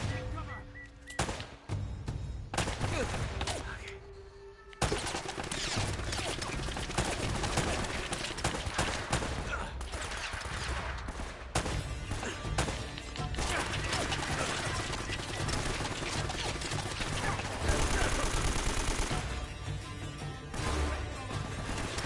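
Heavy turret gunfire in the video game Uncharted: Drake's Fortune, long continuous automatic bursts with impacts and crashes, loud and nearly unbroken, with occasional talk over the din.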